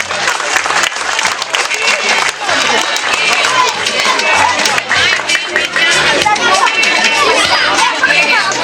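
Audience applause at a school end-of-year celebration, steady dense clapping from a large crowd with children's voices and chatter mixed in throughout.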